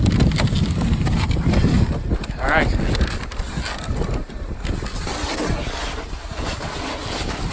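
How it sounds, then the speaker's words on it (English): Wind buffets a microphone outdoors on a sledding hill at dusk, with a loud, steady roar, while people talk briefly over it. "Oh, it's windy."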